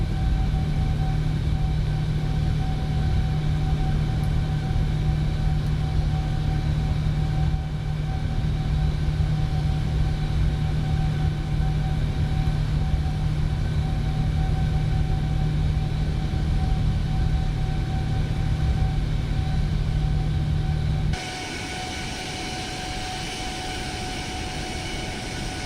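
Airliner engines climbing after takeoff from Rome Fiumicino in Microsoft Flight Simulator, a steady loud drone with a deep low hum and tonal whine, abruptly changing to a thinner, quieter roar near the end.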